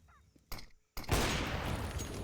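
Counter-Strike gunfire during an ESEA match: a short burst of shots, a brief pause, then a loud, sustained spray of rapid firing.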